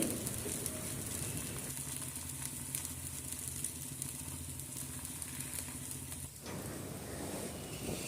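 Masala roti frying in half a spoon of oil on a hot pan, a steady close sizzle running throughout, with a brief dip near the end before the crackle resumes.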